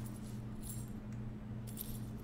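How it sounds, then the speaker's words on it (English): Keys jangling in the video game Raven, a few faint, quick metallic jingles over a low steady background hum, brief and soft. "Some keys."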